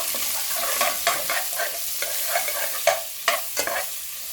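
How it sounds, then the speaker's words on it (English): Onions frying in a pan for a spicy mince calzone filling, with a steady sizzle and repeated scraping stirs of a utensil against the pan, close and clear. "Okay, after that's done, add the onions. Right, give it a mix."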